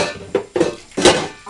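Dishes being washed by hand: three sharp clatters of pots, pans and cutlery knocking together at close range, each fading quickly, with no talk.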